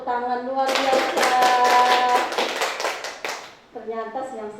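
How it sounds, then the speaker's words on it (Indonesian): A school class bursts into lively applause after a voice starts the call, many hands clapping in a dense rapid burst, then speech-like voices chanting over it and trailing into the room. "Tepuk tangan luar biasa"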